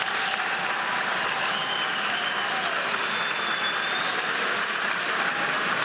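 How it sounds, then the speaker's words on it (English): An audience at an 8th grade graduation gives a steady round of applause, a broad even wash of clapping that holds at a moderate level throughout, with faint whistles or cheers over it. "Let's give our 8th grade class a round of applause."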